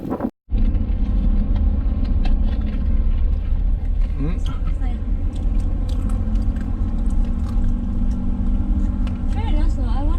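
Car on a road between Angeles City and Hundred Islands in the Philippines, with a continuous loud engine and road rumble heard from inside the vehicle while passengers talk.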